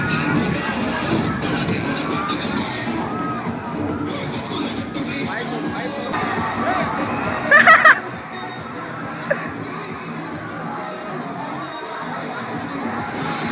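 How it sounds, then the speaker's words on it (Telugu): Schoolchildren at an Independence Day celebration fill the air with a continuous crowd roar of shouting and chatter, with one sharp, louder yell partway through. Nearby voices talk over the din. "ఇంకా అందరూ అయితే గోల చేస్తున్నారు"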